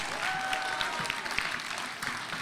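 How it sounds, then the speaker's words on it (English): Steady audience applause at a spoken word poetry event, a dense wash of clapping hands from a crowd, continuing throughout without a break. "Keep that applause going"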